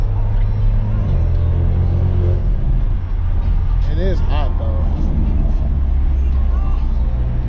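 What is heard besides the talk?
turbocharged car engine while driving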